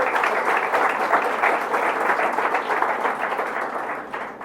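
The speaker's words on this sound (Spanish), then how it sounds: "De un aplauso al Señor, precioso detalle." A church congregation claps together during a sermon, steady full applause filling the hall for several seconds before it starts to thin at the end.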